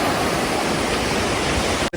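The river stream at Shivtharghal rushes continuously, a broad, close watery roar that cuts out for a moment just before the end.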